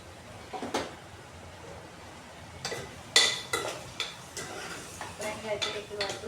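A metal spoon stirs raw prawns and drumstick pieces with turmeric in a pan for a prawn curry, giving intermittent soft scrapes and light clinks against the pan over a quiet background.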